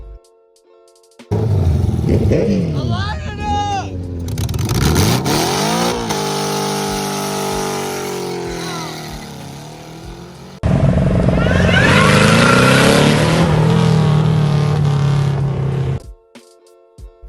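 A rough-running engine in a $200 Honda Civic revs up and down in two loud bursts, harsh and close, with quiet pauses at the start, middle and end.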